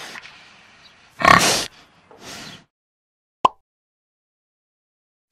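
A pig gives a few loud, short grunts and oinks, spaced apart, close and clear against near silence, from a children's zoo animals flash card app.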